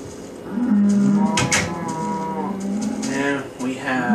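Cows moo in a barn in the Minecraft video game, two or three drawn-out bovine calls close and clear over a faint background hum, with no speech.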